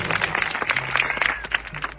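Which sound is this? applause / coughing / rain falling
applause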